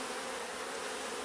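A dense, even drone of honey bees crawling on a hive frame, the close-miked buzzing held in one brief, unbroken stretch.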